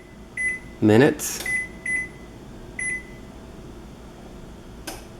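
A kitchen timer is set for oven baking, giving several short, sharp electronic beeps spaced irregularly, with a person speaking briefly in between.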